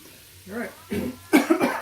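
A man nearby gives a few short, harsh coughs and throat-clearing bursts from pepper caught in his throat, loud and close, with a bit of voiced sound between them.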